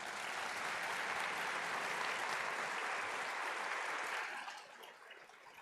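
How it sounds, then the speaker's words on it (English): Sustained audience applause at a university Honors College convocation ceremony, a dense steady clapping that fills the room for several seconds before thinning out and fading near the end. "And let's clap for them."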